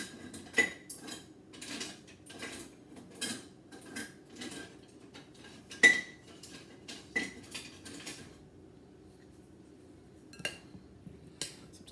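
Utensils scrape and clink against a bowl while tri-color pasta salad with Italian dressing is tossed, giving irregular close taps and clatters spread across the stretch with quiet gaps between them.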